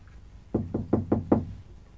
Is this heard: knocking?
yes